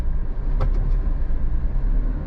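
A Suzuki Jimny JA11 engine warms up at idle in a steady, fairly loud low rumble, with a couple of brief light clicks early on.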